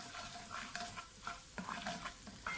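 Garlic ginger paste fries in hot oil for an anda korma with aloo, with a soft continuous sizzle broken by repeated scraping stirs, no voices.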